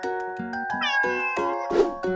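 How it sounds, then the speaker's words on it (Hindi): A cat meows repeatedly in a quick series of clear, tonal, close-up calls, with one louder, harsher cry near the end and no talking. "सी से होती है कैट यानी बिल्ली।"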